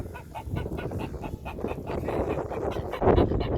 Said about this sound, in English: let's go check out the chickens